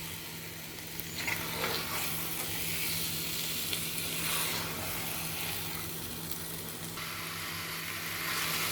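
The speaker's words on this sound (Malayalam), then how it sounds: "ചിക്കൻ ഇട്ട് ഇനി നമുക്ക് ഇത് നല്ലപോലെ ഒന്ന് വഴറ്റാം." Chicken sautéing in masala in a pan for Kashmiri green chicken curry, a continuous bright sizzle with swelling bursts as the pieces are stirred, close and steady with no talk.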